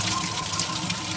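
Water is dumped into a model hydroelectric reservoir and runs out through the penstock onto a small turbine, making a short, continuous gushing pour with a faint steady whir underneath.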